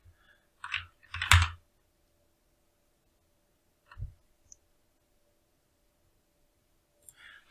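Command-line typing on a computer keyboard: short clustered bursts of key clicks near the start, then a brief lone tap midway and another quick burst at the end, separated by near silence.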